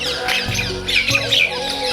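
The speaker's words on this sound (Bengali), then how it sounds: "আজকে প্রচুর টিয়া পাখি ডাকছে" Several harsh, shrill squawks from parakeets in coconut trees ring out in quick succession, fairly close and loud, overlapping one another, during light rain.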